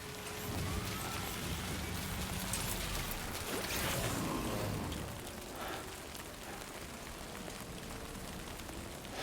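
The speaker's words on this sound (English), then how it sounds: "I like the rain going down the screen." Steady rain in the Death Stranding 2 video game, a dense even hiss of drops streaming down the view, loud and continuous with a brief swell midway and no voices.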